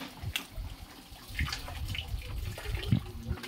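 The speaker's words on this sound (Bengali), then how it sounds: "সবাই এখান থেকে জল ভরে নিচ্ছে।" Medicinal spring water runs into containers as people fill them at the spring, a steady mid-level splashing wash with a few louder gurgling bursts throughout.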